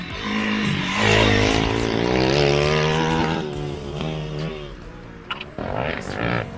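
A YCF dirt bike engine revs loudly nearby, its pitch rising and falling in long sweeps before dropping back to a rougher, quieter idle with a few sharp pops.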